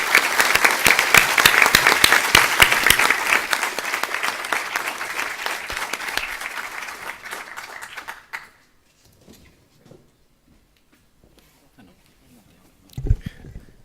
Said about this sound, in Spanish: despidamos con un aplauso a nuestros invitados, Patricio, Violeta, Daniel, Catherine y Robert.